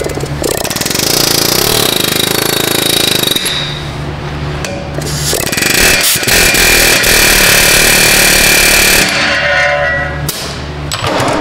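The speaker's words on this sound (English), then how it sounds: "Rattling the axle." A loud, continuous power-tool whine loosens a screw and rattles the axle during a front wheel bearing replacement on a 2017 Chevy Colorado, with harsh grinding and clattering throughout and brief dips near the middle and end.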